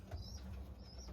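Racing pigeons in a loft give soft, low cooing with light wing flutters, a quiet steady murmur of young birds close by.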